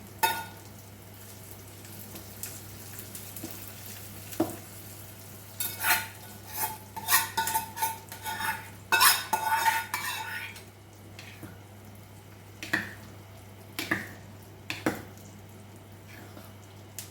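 Crushed garlic stirred into a sizzling Telugu pickle tempering with mustard seeds, dried red chillies and curry leaves in a pan: a steady frying hiss broken by bursts of spoon scraping and clinks.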